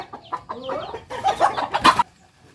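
Farm chickens cluck in a quick, close burst of choppy, rising calls that stops abruptly into near silence.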